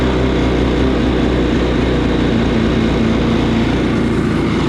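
A two-stroke, two-cylinder jetboat engine idles steadily at about 1500 RPM with no choke, a loud, even, low droning hum held close and unbroken throughout.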